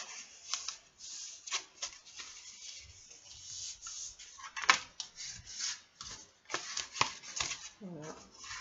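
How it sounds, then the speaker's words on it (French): Folds of a paper envelope are creased by hand, producing dry rubbing and scraping strokes in short irregular bursts, close and fairly quiet. "Maintenant, ce qu'il vous reste à faire, c'est tout simplement marquer les plis."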